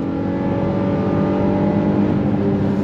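A 2022 Honda Passport Trailsport SUV accelerates hard on the highway, its engine note loud and steady with rising drone as the automatic transmission kicks down, heard from inside the cabin.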